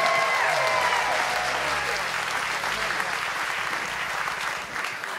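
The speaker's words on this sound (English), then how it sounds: "clap your hands and go crazy for my guy, Keith, who's coming up with us" Gala crowd claps and cheers loudly for a man coming on stage, thick applause with whoops and shouts woven through, plus some voices and tonal sound underneath, fading a little near the end.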